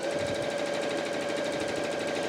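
A sewing machine with a quarter-inch foot running a pillowcase seam, giving a steady, even whirring buzz with a fast rhythmic needle chatter, close and continuous, no voices.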